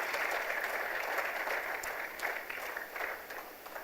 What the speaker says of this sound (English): I think this calls for a round of applause